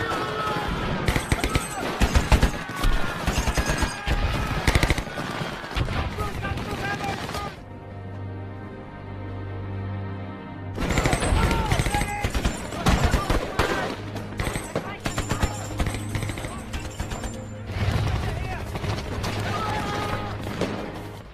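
Bursts of rapid gunfire and explosions crackle loudly through a chaotic film battle between Japanese and Australian soldiers in the Papuan jungle, with shouting voices and a low dramatic score underneath, pausing briefly midway.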